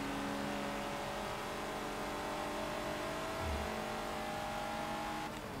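Race cars accelerating in Forza Motorsport 7, including a Sierra Cosworth, with engines droning and revving steadily at close range, a brief low thump near the end, and no speech.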